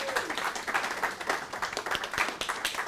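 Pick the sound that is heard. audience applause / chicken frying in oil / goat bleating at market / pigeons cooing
audience applause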